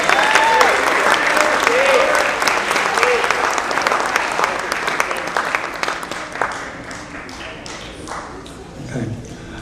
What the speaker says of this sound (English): How about a nice round of applause for all our captains